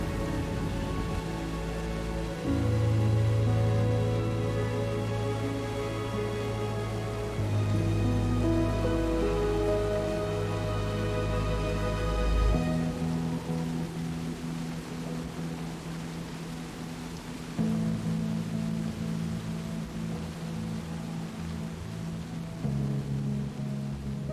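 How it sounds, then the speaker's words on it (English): Heavy rain pours steadily in Bali, a dense, continuous hiss of drops on surfaces that lasts throughout, with a low droning hum underneath and no voices. "it became clear that the rain wouldn't let up"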